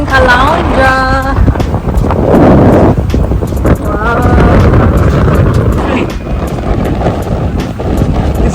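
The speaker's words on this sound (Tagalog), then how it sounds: "So windy." Strong wind gusting at the coast in Caloundra, buffeting the microphone with loud continuous rumbling roar, while voices and other faint sounds drift briefly through.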